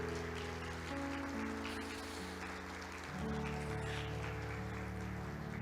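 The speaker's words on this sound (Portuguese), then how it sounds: "Você pode aplaudir o nome do Senhor?" A church congregation applauds in a steady wash of clapping that runs under sustained organ or keyboard chords throughout.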